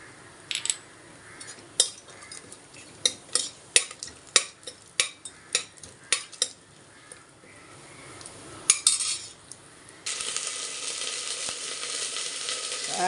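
Cumin seeds dropped into hot oil in a pressure cooker with whole spices, for beetroot pulao: a run of sharp clinks and crackles, then a loud steady sizzle near the end, with no talk.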